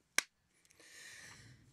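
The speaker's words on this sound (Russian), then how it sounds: "Давайте ударим хлопушку." A clapperboard snaps shut once with a sharp, bright crack near the start, then quiet room tone and a soft, hissy wash of background noise follow.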